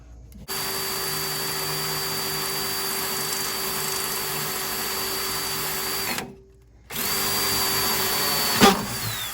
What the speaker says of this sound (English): And then come over with the drill.